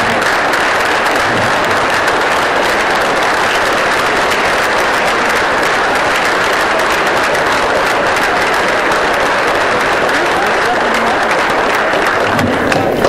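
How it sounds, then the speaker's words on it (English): A large annual board meeting audience gives a loud, sustained standing ovation, dense clapping filling the whole stretch without pause. "let's applaud our staff and ourselves for the standing ovation we deserve"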